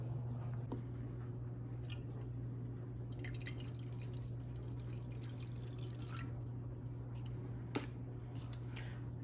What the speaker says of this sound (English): Then I added about 4 ounces of water.